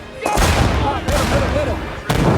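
Gunfire from an infantry anti-tank weapon engaging enemy at a tree line, a dense loud burst of shots with a couple of sharp broadband blasts near the start and end, ringing over battlefield noise.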